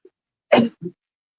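A single sudden sneeze, loud and close, with a short breathy follow-up sound just after in an otherwise silent moment.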